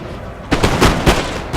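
Musket line volley fire in Napoleon Total War, with British troops at the Battle of Waterloo: loud, close bursts of massed rifle shots in a quick ragged sequence after a moment of quieter background.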